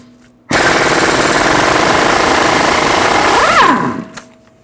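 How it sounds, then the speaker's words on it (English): A loud impact wrench hammers continuously for about three seconds, spinning a 30mm socket on the front axle nut of a 2014-2019 Toyota Highlander, then winds down with a falling whine and stops in a quiet shop. "Using a 30mm axle nut socket, remove the axle nut."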